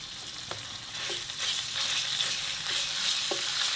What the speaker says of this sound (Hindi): पैन में हम ऑयल डालेंगे और लहसुन अदरक का पेस्ट इसमें डाल के उसको